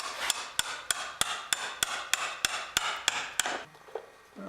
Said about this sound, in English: I'm just going to chisel up for the latch.